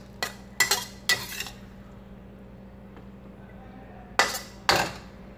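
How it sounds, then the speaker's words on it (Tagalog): Cooked green bell pepper is scooped from a pan onto a plate, making five sharp metallic scrapes and clinks of a utensil against cookware, three close together at the start and two more after a quiet pause. "Sasalin ko na po siya dito sa pinggan."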